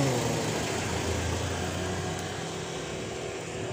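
Vehicle engine running nearby, a steady mid-pitched drone with a faint rise and fall in intensity and no talk over it.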